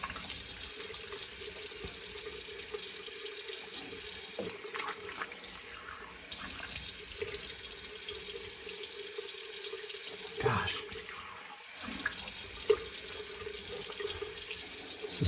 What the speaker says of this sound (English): I'm going to wash all this off.